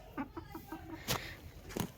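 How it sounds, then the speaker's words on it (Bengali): A hen brooding on a clutch of eggs gives a few short, soft clucks in quick succession, close by, with a couple of sharper sounds breaking in toward the end. "মুরগি ডিম নিয়ে বসে থাক"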